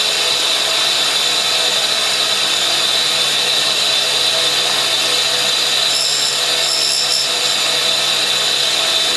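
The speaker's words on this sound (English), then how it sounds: "It's only just starting to grind the tip of the teeth now." Continuous hissing whine of a tool grinder's disc wheel working the teeth tips of a large hard cutter, loud and steady with no pauses or talk.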